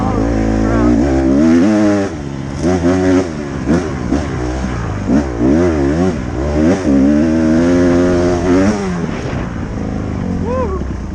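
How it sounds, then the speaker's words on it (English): Loud dirt bike engine revving hard and close, with rising and falling pitch sweeps as the throttle opens and closes at a motocross track, running continuously throughout. "you probably can't hear me over the noise of my bike"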